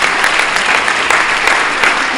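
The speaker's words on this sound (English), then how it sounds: "Give them people a round of applause." An audience claps loudly and continuously for visiting chiropractic students, a close, dense burst of applause.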